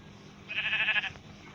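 A sheep bleats once in a survival video game, a single wavering cry lasting about half a second at moderate volume over quiet game background.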